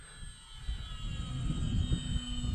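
An Arrows RC Trekker trainer model plane flies overhead, its motor holding a steady high whine over low rumbling wind noise, fairly faint and with no talking.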